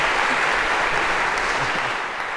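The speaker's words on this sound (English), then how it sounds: "a round of applause for Spot as well" Lecture-hall audience at a Harvard CS50 class applauding a robot dog demonstration, dense steady clapping from a large crowd that fades slightly toward the end.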